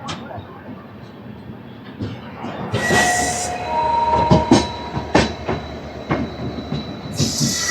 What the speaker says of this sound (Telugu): diesel locomotive